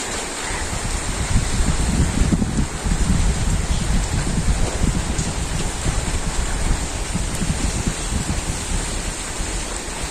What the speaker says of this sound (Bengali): এই বৃষ্টি এক ঝলকে একবারে না জানি জুড়ে নামলো